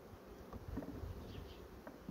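Honey bees at an opened hive frame during a formic acid treatment, a faint, steady buzzing close by with occasional louder passes.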